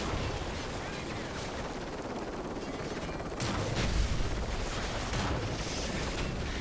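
Gunfire in the video game Modern Warfare 3 crackles as dense, continuous bursts of shots, growing heavier partway through, with a player talking over the din.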